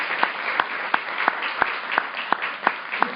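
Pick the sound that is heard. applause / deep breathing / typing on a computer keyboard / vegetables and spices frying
applause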